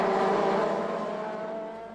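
Norma M20F prototype race cars at the 3 Hours of Dijon roar past close by, a dense, steady engine drone that fades slightly as they pull away.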